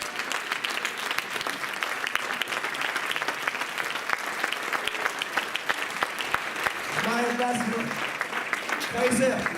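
A standing church congregation claps steadily throughout, broad sustained applause from a crowd, with voices singing or shouting over it toward the end.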